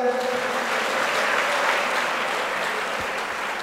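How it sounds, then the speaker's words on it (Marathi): A crowd claps steadily in sustained, dense applause at a felicitation ceremony, loud and even from start to finish. "त्यांच्यासाठी एकदा जोरदार टाळ्या होत्या"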